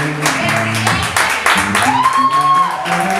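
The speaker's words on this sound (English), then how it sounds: "Clap it up, show all your love and all your energy" Audience clapping and applauding at the For Love and Word spoken-word event, a steady wash of many hands running through the whole stretch, mixed with music and a host's voice.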